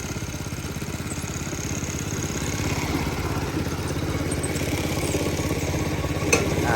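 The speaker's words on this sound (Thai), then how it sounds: "เรายังไม่เร่งเครื่องนะครับ อันนี้เดินรอบเบาอยู่นะครับ" A riding lawn mower's small engine idling steadily with an even, rapid putter and some light mechanical clatter, close by and with no talking.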